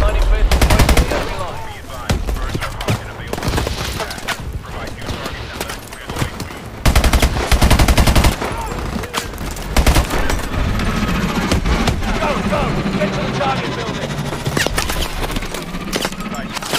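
Dense automatic and suppressing gunfire in the Call of Duty: Advanced Warfare video game, loud bursts rattling almost nonstop with brief lulls, while voices talk over the combat.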